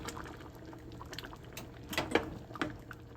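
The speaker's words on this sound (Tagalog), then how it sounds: "maglagay tayo sa ating bowl" Sayote soup with corn ladled from a pot into a bowl, soft liquid pouring with a few sharper splashes and clinks near the end, close and alone.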